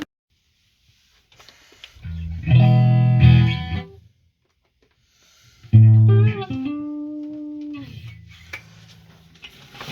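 Two separate bursts of harsh, buzzy square wave distortion from a modular synth, with notes stepping and sliding in pitch, divided by a stretch of near silence.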